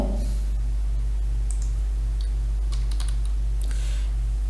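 Keys on a computer keyboard are typed in a quick, close run of clicks as a website address is entered, over a steady low electrical hum.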